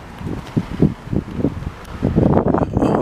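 Gusty wind buffeting a handheld microphone on a street in Montreal West, with low, rumbling bursts that grow stronger and more continuous toward the end.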